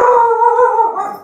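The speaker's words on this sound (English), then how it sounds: "Dog growling." A dog lets out a sustained, tonal howling growl close by, loud and steady for about a second before trailing off, with no talking.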